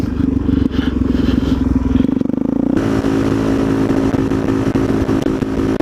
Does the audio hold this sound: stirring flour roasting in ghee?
no